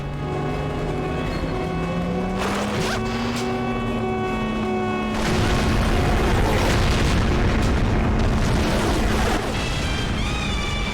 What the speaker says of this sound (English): Oh my god, everything's exploding and I don't know why.